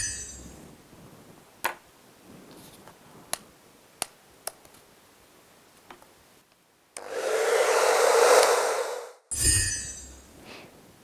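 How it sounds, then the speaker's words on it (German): Hair dryer blowing loud and steady for about two seconds to dry a freshly painted homemade cosplay magic wand, with a brief burst again after it, preceded by a few sharp clicks and taps. "dann packe ich jetzt nämlich den Föhn aus"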